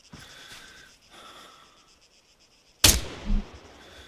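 Two sharp rifle shots ring out in the Arma 3 military game, one near the three-second mark and another at the very end, each with a brief echoing tail, following a stretch of quiet breathy ambience.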